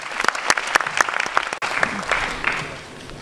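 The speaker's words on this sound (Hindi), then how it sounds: "जोरदार तालियां उदय के लिए।" A seminar audience breaks into hearty applause, with crisp individual claps at first, then a fuller round of clapping that thins out over a few seconds.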